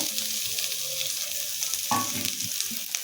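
Spices for a chicken patty filling fry in a pan with onion, ginger and garlic, a continuous near sizzle broken by a few spoon-stirring clatters, no voices.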